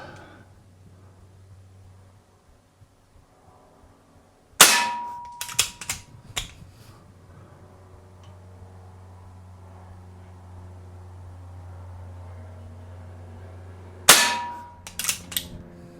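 A Diana Bandit PCP .177 bolt-action pellet pistol fires two sharp, loud shots about ten seconds apart, each followed by a quick burst of metallic clicks and clatter, with a low steady hum in between.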